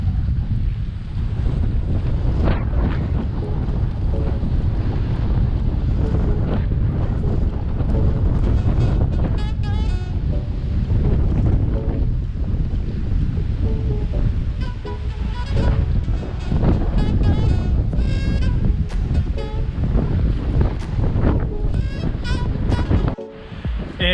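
Strong gusts at Bridger Bowl ski area on a cold day roar and buffet the microphone continuously, a dense, steady low rush with no let-up.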